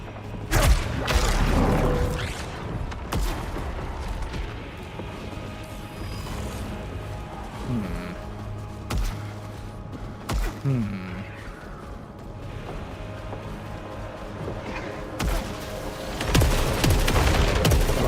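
Three-round burst gunfire in SAROS sounds as sharp clusters of shots scattered across the stretch, mixed with mechanical weapon clicks, booms and game effects, with a person talking over much of it.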